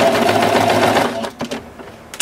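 Sewing machine backstitching to lock off a seam on a fabric placemat or napkin, a loud steady motor whir that stops about halfway, followed by a few short mechanical clicks and taps.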